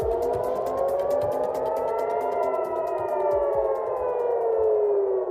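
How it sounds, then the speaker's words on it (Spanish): Air raid sirens wail over central Israel in the early hours, a loud, sustained rising and falling tone that continues without pause, with faint traffic rumble beneath. "Las sirenas antiaéreas sonaron más de lo habitual la madrugada de este miércoles en el centro de Israel."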